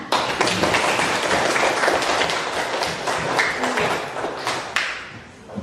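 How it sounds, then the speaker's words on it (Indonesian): A class of students in a lesson claps unevenly, with clustered hand claps mixed with thumps and taps from the room, fading somewhat toward the end before a final burst. "Oke, tepuk tangan."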